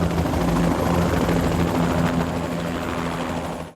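Steady, loud helicopter rotor thrum with a rhythmic chop and engine whine, filling the whole stretch near a hospital in a medical drama scene and fading slightly at the end.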